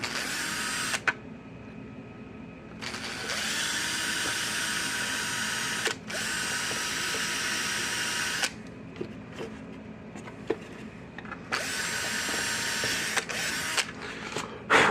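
A power drill whines in several sustained bursts, steady and close, with brief pauses between runs, as it bores a hole in the circuit board of a Zareba 25 Mile fence charger.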